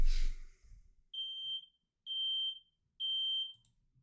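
A smoke alarm beeps from the stove in the MeChat video game as a pan overheats: three long, steady, evenly spaced electronic tones, clear and alone, following a brief noisy burst at the start.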